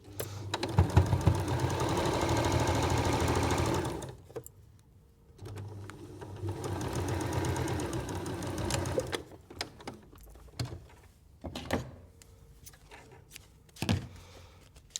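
A sewing machine runs a seam on patchwork fabric in two steady bursts of rapid stitching, each about four seconds long, separated by quiet pauses and followed by scattered handling clicks.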